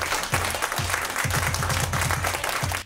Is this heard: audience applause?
yes